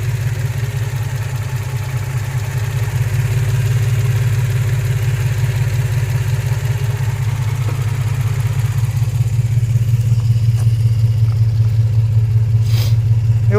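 2003 Infiniti G35 engine running with a misfire, a loud, close idle with an uneven, pulsing low-frequency beat that stumbles rhythmically throughout.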